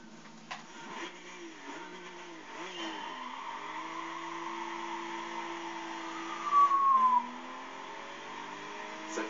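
An Aston Martin DB9 drives in the racing game Gran Turismo 5, its engine holding a steady droning tone that rises and falls through gear changes, with a brief tire squeal or skid near the end, loud and continuous without speech.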